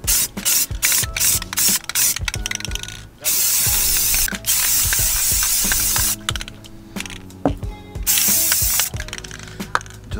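Aerosol spray paint hisses onto the inside of stock Subaru STI wheels outdoors, in several loud close bursts separated by short pauses, with steady tonal background sound underneath.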